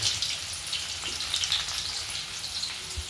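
Onion and peanuts fry in hot oil with cumin in a pan, giving a loud, steady crackling sizzle up close and alone.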